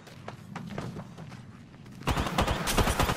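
Scattered gunshots from a video game crack sparsely at first, then erupt into a louder, dense barrage of rapid fire for the final second.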